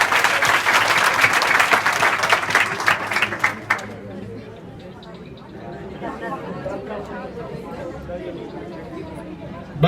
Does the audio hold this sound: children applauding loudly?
yes